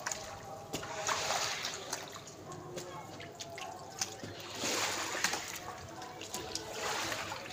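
Water splashing and trickling while wheat grain is washed at a home in Gujranwala, Pakistan, with scattered drips and splatters over a continuous wash of flowing water, moderately close.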